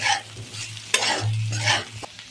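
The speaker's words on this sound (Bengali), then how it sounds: "বাদাম গুঁড়োটা দিয়ে দিয়েছি, এবার ভালো করে নেড়ে ছেড়ে নামিয়ে নেবো।" A spoon stirs fried potatoes coated with ground peanut powder in a hot pan, giving steady sizzling with a few scraping strokes over about two seconds and no talking.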